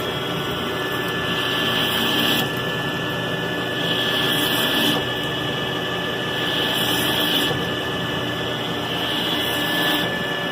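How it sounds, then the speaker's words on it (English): CNC machine cutting a crane pole part for a tractor attachment, a steady loud broadband machining roar with a rising whine that swells and fades in several passes. "Gotta love CNC equipment."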